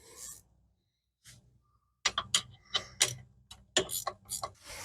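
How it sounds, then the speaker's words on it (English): A ratchet wrench working loose a hub bolt on a 2006-2013 Chevy Impala, heard as bursts of quick mechanical clicking after a quiet stretch, close and moderately loud. "I will use the ratchet wrench to finish the job"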